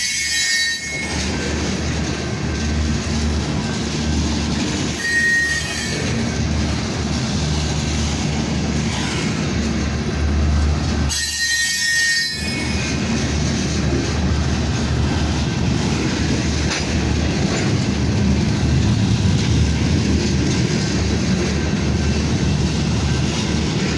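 Slow freight train hauled by three locomotives rolling past up close, a loud continuous rumble of wagons and wheels with faint squeals, briefly dipping twice early on before carrying on steadily.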